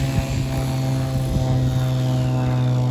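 A small RC helicopter hovering in steady flight, its rotor giving a constant loud buzzing drone with a strong low hum that stays even throughout.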